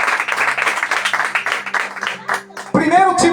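Church congregation applauding during a worship service, a brisk, continuous run of many hands clapping for several seconds that then gives way to a sudden loud burst of voices and music.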